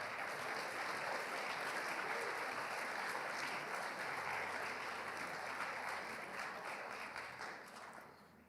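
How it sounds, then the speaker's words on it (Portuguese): A church congregation applauds together for several seconds, a dense, steady wash of clapping that fades slightly toward the end, with no speech over it. "Aplauda ao Senhor, diga glória a Deus."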